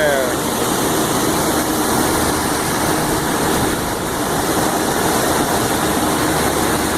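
A Trane Intellipak rooftop HVAC unit running with its fans spinning, a loud, steady broadband roar and whoosh that continues unchanged throughout.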